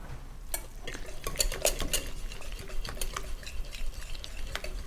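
Strained yogurt being whisked in a bowl for Turkish yayla soup, a steady run of quick light scraping and clinking strokes of utensil against the dish, close and fairly quiet, with no voices.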